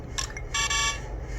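Two short electronic beeps followed by a longer sustained beep from a LEGO Super Mario Kart toy horn (set 72035, Toad's Garage), sounding close and fairly loud with no talking.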